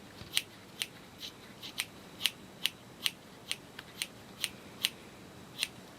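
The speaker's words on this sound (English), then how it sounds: "I find it takes about as long to actually trim the pom-pom as it does to make it in the first place" Scissors trimming a yarn pom-pom, a regular series of crisp snips about every half second, close and clear against a quiet background with no talking.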